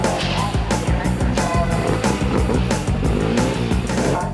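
Small Mini cars racing on a track, engines snarling loudly and continuously at high revs with shifting pitch as they pass, a dense close roar with no pauses.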